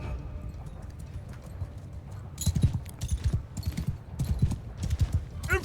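Horses gallop in Mount & Blade II Bannerlord, a continuous rumble of many hooves that swells into heavier, closer clip-clop bursts partway through, with someone talking faintly beneath.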